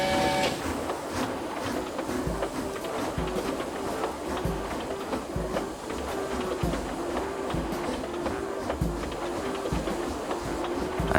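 An animated steam locomotive puffs along with a steady, rhythmic chuffing and clattering, loud and continuous and close throughout.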